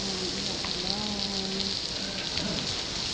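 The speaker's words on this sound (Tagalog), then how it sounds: "umuulan guys" Steady rain pouring down around a covered market walkway, a dense even hiss of drops on surfaces throughout, with a voice talking faintly beneath it.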